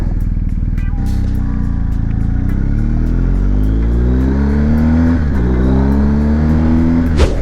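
A BMW R1250GSA motorcycle overtaking a car on a country road, its engine rising in repeated climbing revs through the gears over steady loud wind rush, heard up close from the rider's position.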